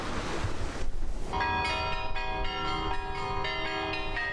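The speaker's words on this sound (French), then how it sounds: "Guidés par le son des cloches" Church bells at a basilica in Paroikia on Paros ring out with bright, sustained metallic tones after a brief rush of wind, their overlapping peals lingering and resonating.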